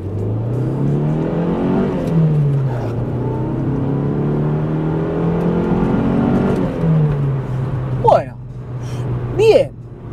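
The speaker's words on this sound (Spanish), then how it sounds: "Primera engranada, pata a fondo, a ver qué hace la Nissan Silvia." A Nissan Silvia 240SX S14 with 155 horsepower pulls hard at full throttle from a standstill in first gear. Its engine note climbs steadily across several seconds and then drops abruptly at a shift, with a voice speaking underneath.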